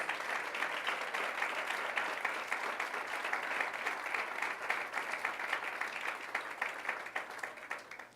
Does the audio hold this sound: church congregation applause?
yes